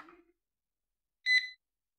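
Electronic carp fishing bite alarm giving a single short high-pitched beep after a moment of silence, close and clear, preceded by a faint brief rustle.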